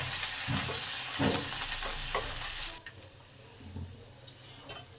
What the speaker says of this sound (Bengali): এবার সর্ষে আর কারি পাতাটা দিয়ে দিলাম। এবার এগুলো একটু ভালো করে ভেজে নেব।